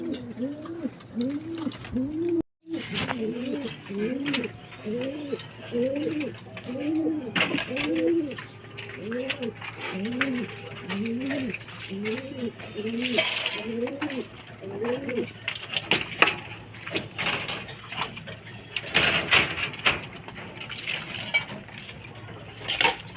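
Pigeons being fed give repeated rhythmic cooing, a steady series of rising-falling coos for about fifteen seconds, mingled with clinks like dishes or feed containers and light background rustle.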